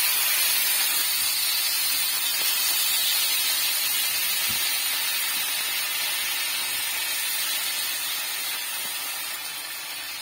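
Pork steak sizzles steadily in a hot pan, a loud, dense hiss that carries on unbroken and eases off slightly toward the end.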